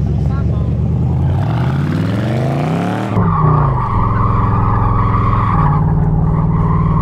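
Chevrolet Camaro convertible drifting, its engine revving up hard before the tires break loose into a long, loud continuous skid and squeal close by that holds steadily to the end.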